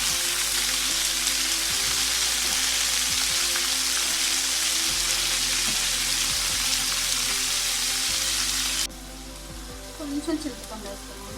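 Chopped spinach hisses and sizzles steadily in a hot pan for Andhra-style palak chutney, with a loud dense fry that drops off sharply near the end, followed by a few soft stirring clinks.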